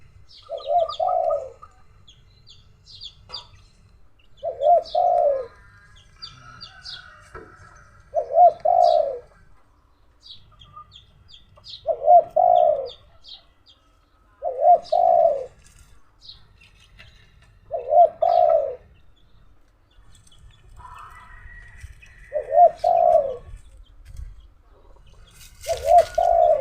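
A spotted dove coos repeatedly in short, regular phrases in the early afternoon, fairly close, with faint chirps from other birds between the calls.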